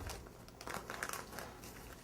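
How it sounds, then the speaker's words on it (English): A plastic bag of chilled cookie dough for Mexican chocolate cookies is peeled open, giving quiet, close crinkling and crackling in a few irregular bursts with brief soft pauses between them. "Sometimes, most of the time, I can just peel it off like this. This does destroy your bag."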